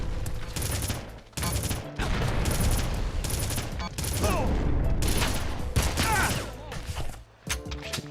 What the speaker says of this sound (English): This man's just chucking grenades everywhere.